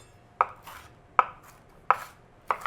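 Peppers are chopped with a knife on a board in four crisp, evenly spaced chops, close and distinct, with no one talking.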